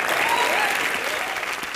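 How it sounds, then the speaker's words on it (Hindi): Studio audience applause on the Comedy Nights Live comedy show, a short, loud burst of dense clapping with a voice faintly underneath. "क्या बात है यार तालियां."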